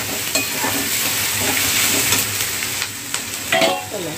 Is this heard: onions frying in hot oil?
yes